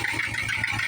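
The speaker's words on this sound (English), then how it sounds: "I do hear quite an exhaust leak over here." Project truck engine idling with an exhaust leak from a missing manifold bolt, a steady close-up running drone with a raspy upper hiss throughout, no talk.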